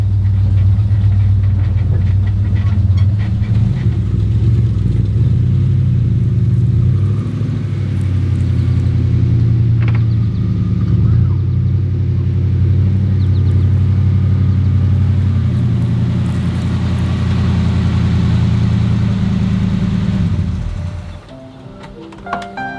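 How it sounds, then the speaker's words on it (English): A 1972 Ford F250 crew cab pickup idles and maneuvers while turning around, its engine a steady loud low rumble throughout that cuts off abruptly near the end, leaving quieter background. "I'll just turn the truck around first."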